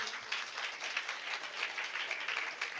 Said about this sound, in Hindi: विजय सर के लिए ताली है, जोरदार ताली बजाइए आप सब लोग